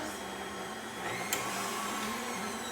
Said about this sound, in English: we're just gonna whisk this